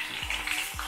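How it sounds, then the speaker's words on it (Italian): Tomatoes frying in hot oil give a loud, dense sizzle and crackle throughout, close up, with a couple of low thumps. "La cosa che non mi piace del friggere è proprio questa, che sgrincia"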